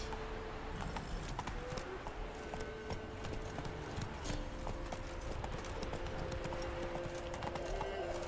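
Horse hooves clip-clop at a steady trotting rhythm in The Witcher 3, moderately quiet under ambient game sound with faint tonal hums.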